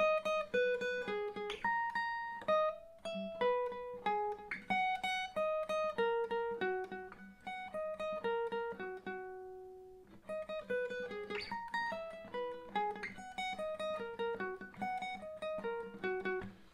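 Electric guitar plays the main riff of a song, a repeating melodic figure of clear plucked notes over a steady low drone, pausing briefly midway before the pattern resumes; played alone, moderately loud.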